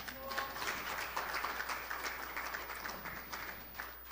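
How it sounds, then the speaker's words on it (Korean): An audience at a construction-industry policy forum applauds in a steady, moderately dense round of clapping heard from a slight distance, continuing evenly throughout. "큰 박수로 환영해 주십시오."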